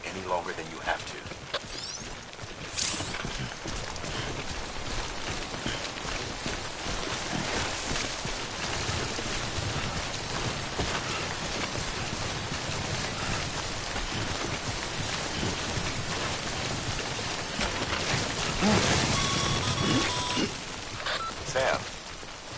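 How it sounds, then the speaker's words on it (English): Timefall rain in the video game Death Stranding pours steadily as a dense, continuous hiss of drops on surfaces, loud throughout with a swell near the end. "Don't stay out in the rain any longer than you have to."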